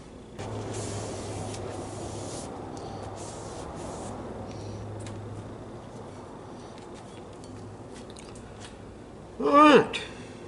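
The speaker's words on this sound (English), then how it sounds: "let me go ahead and rinse that off" A water spray rinses a freshly blued gun part with a sandblasted section, giving a soft, steady hiss for several seconds that fades out. Near the end comes a brief, louder vocal sound.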